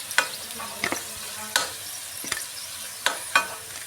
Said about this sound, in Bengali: আবার একটু নিয়ে নিলাম, আবার ভেজে নিচ্ছি।